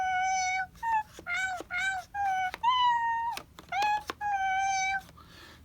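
Pitched cat meows from the Nintendo Labo Toy-Con Piano game play as a tune, a rapid series of short and sustained electronic mews, clear and close, with brief gaps between notes.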